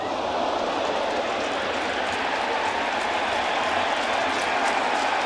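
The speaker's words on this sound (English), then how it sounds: "now Yankee fans stand and cheer." Yankee Stadium baseball crowd standing and cheering, a broad steady roar of applause and voices filling the stands, distant and sustained with no break.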